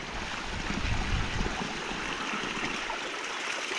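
Spring water runs steadily into an outdoor tank, a continuous broadband rush and trickle close by at an even level, with no talk.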